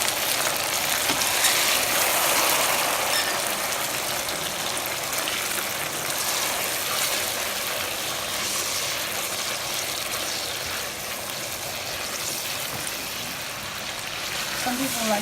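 Onion and tomato paste sizzle and fry in a pan for Egyptian stuffed cabbage rolls, a soft, steady crackling hiss close by that fades slightly toward the end.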